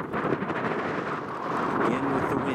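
Wind gusting across an open mountain spot in the Chocolate Mountains, a steady broadband rush that swells slightly toward the end, near and fairly loud with no talk.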